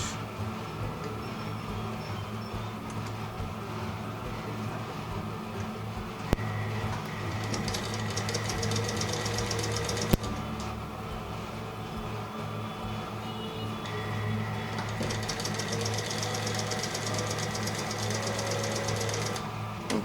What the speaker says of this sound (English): Now I'll be sewing on this edge. I'll sew it round.